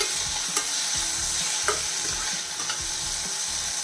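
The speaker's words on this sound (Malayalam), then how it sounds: "ഒരു തക്കാളി ചെറുതായിട്ട് കട്ട് ചെയ്ത് അതും കൂടെ ഒന്ന് വഴറ്റി വെക്കാം" Onion and finely chopped tomato sautéing in a pan for a raw jackfruit dish: a constant close sizzle under repeated spoon scrapes and taps, roughly once a second.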